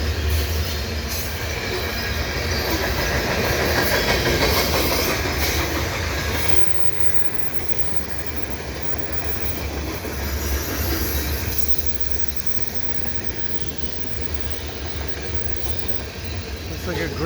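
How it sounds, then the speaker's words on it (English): CN grain freight train with old 1970s rolling stock rolls past Pointe Claire station on an autumn afternoon, a steady loud rumble of wagons and wheels that rattles a railing, continuous throughout with faint voices in the background. "Looks like a grain train."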